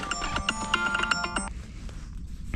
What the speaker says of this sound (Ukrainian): Ще хтось дзвонить.